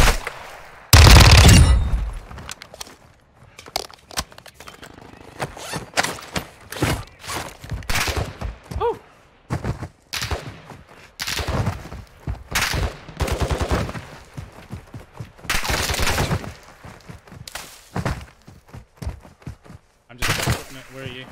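Gunfire in the video game Warzone, with loud bursts and rapid strings of shots recurring throughout amid other game noise and players talking.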